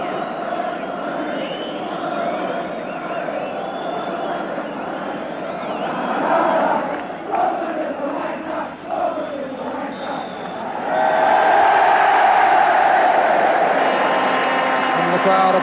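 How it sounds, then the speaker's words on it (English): A football crowd at a Tottenham versus Nottingham Forest match applauds in a broad, sustained wash of noise that swells louder toward the end. "Crowd applaud a very satisfactory opening performance by Tottenham"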